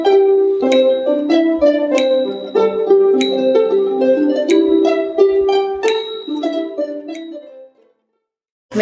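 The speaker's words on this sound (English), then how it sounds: "Zongsi means the clapper and the timing bell is played simultaneously, the same time, played at the same time." Myanmar zongsi: a timing bell and a clapper struck together, bright ringing bell strokes and dry clapper hits recurring steadily over a sustained melodic accompaniment before fading to silence.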